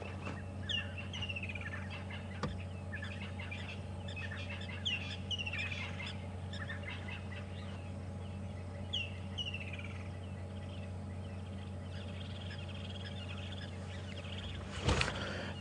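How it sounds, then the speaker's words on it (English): Birds call in the bush during an afternoon safari drive at Djuma and Arathusa, with faint scattered chirps and honk-like notes over a low steady vehicle hum, quiet and somewhat distant, with no speech. "The trio of birds that we can see right now, which is probably on the camera"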